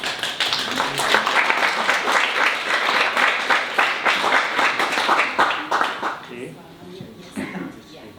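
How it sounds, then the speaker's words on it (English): Warm audience applause greeting a speaker, Kostas Koutis of Aegilops, with close, crisp clapping from a modest crowd that tapers off near the end. "please give him a warm applause"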